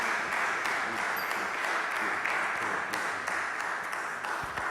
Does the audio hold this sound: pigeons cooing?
no